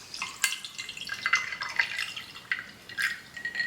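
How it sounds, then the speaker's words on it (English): Cold brew coffee trickles and splashes into a glass over ice, with small clinks and crackles of ice throughout the short pour. "I'm just going to pour the cold brew in"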